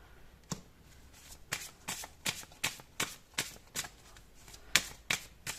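Tarot cards shuffled by hand in a steady series of crisp riffling bursts, about a dozen in a row, close and clear over a quiet room.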